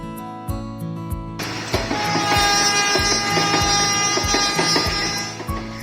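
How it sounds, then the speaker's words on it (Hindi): A train rolls along railway tracks through forested hills near a colonial-era station. Rhythmic wheel clacks repeat steadily over rumbling, loud and close, and a long horn blast sounds partway through. "पटरियों पर जब छुक छुक करती हुई ट्रेन मंजिल की ओर बढ़ती चली जाती है"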